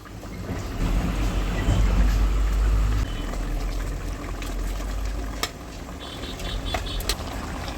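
Fish curry with bottle gourd bubbles and simmers steadily in a pot with a soft sizzling hiss, close by, joined by a few light clinks.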